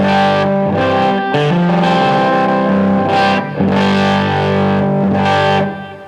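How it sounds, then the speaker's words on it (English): An electric guitar turned all the way up through an amp and hit hard, giving a crunchy distorted tone; loud chords and riffs play for several seconds with no talking. "when you have the guitar turned all the way up and you hit the strings pretty hard, you get a nice crunchy tone"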